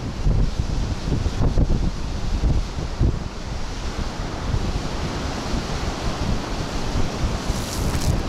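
Waves splashing against a harbor wall under strong wind, a steady loud wash of surf and gusty wind noise filling the whole stretch with no pauses.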